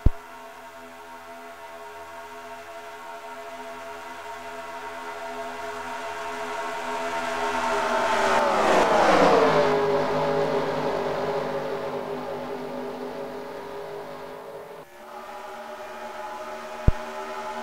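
Stock cars racing in the NASCAR Racing 2003 video game, a pack of engines whining steadily, swelling to a loud pass-by with a falling pitch before fading, ending in a short sharp click.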